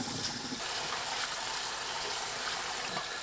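Tap water runs steadily into a bowl being filled for washing stonecrop greens, a continuous splashing rush at moderate level with no talk.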